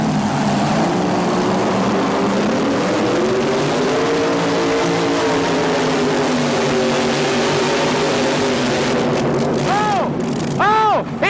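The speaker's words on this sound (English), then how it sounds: "He has blown a motor! He has blown an engine!" 1923 Model T bucket drag racer with a Rodec engine roaring loudly down the strip, its steady engine drone rising in pitch, then sharp squealing bursts near the end as the motor fails.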